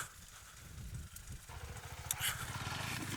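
KTM 390 Adventure single-cylinder engine running while riding, a steady low throbbing drone that rises and becomes more rhythmic partway through, with wind rush over it.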